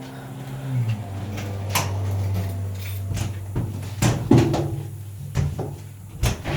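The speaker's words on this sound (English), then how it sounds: "So I asked the last person to close the door behind them" A heavy door at Riverbluff Cave is closed, with a low sustained hum, scattered clacks and a solid latching thunk, plus a few more knocks afterward.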